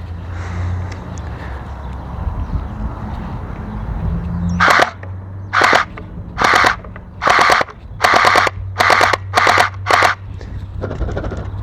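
Gel blaster with heavy condensation inside, shooting a quick series of about eight sharp pops at a steady rhythm, moderately loud over a constant low background hum outdoors.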